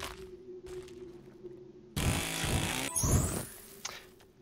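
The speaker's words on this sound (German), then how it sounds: "es klingt wie eine Kettensäge" A chainsaw in the video game King of Crabs revs in two loud bursts of harsh buzzing, each lasting about a second, over quieter game ambience.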